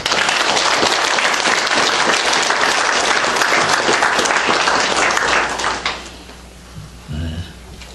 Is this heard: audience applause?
yes